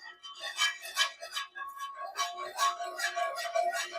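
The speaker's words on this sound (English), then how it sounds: "I'm whisking, making a noise, and I'm whisking, and it is becoming a lovely silky sauce" A whisk beating butter sauce in a bowl with rapid, bright metallic clinks in a fast irregular rhythm, close and moderately loud.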